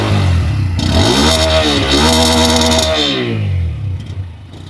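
A Bajaj Pulsar N125 motorcycle revs up from a rumbling idle, climbing to a loud buzzing exhaust note for a couple of seconds before falling back and settling to idle, heard close and clear.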